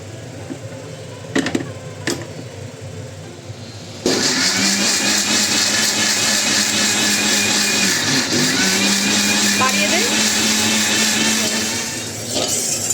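An electric mixer grinder switches on in a home kitchen partway through and runs as a loud, steady, close whirring drone until the end, with faint clatter before it starts.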